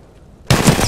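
A close, loud burst of automatic pistol fire in the shooter game Titanfall 2 erupts suddenly after a quiet moment and keeps rattling to the end, with no speech.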